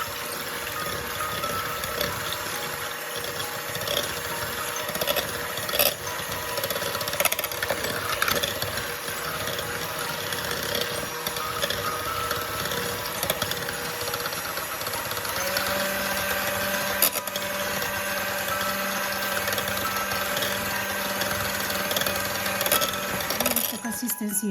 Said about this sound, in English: let's just beat the egg first at the high speed